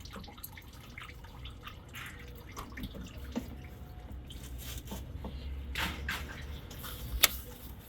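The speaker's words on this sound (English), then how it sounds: "You can hear it is draining down now." Engine oil draining out of a car during an oil change, heard as a faint, steady trickle with scattered drips over a low background rumble.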